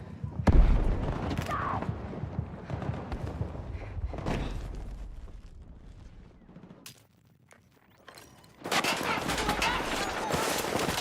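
Assault rifle fire in a video game, loud bursts and rapid shots near and far for most of the stretch, easing briefly before a dense volley resumes, with voices talking over the fighting.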